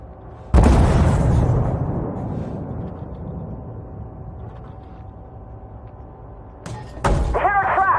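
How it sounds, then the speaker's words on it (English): Tank in a tank video game struck by enemy fire on its tracks: a sudden loud boom with a decaying rumble, then another sharp impact near the end followed by metallic ringing. "They hit our tracks."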